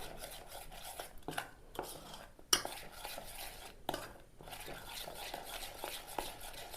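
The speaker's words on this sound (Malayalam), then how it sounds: "അല്പം വെള്ളം ഒഴിച്ചിട്ട് മാവൊന്ന് ദോശമാവ് പോലെ നമുക്ക് ആക്കിയെടുക്കാം" A utensil stirs and scrapes through batter for fried jackfruit in a bowl as water is added to thin it to a dosa-batter consistency, with close, uneven scraping and clinking strokes repeating throughout and no talk.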